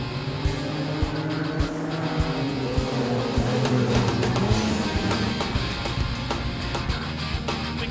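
Sprint cars race around a dirt track at a night speedweek final, their engines a continuous distant roar with rising and falling passes and faint clattering, steady throughout.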